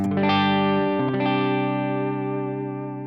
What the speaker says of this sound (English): That's just such a good clean tone.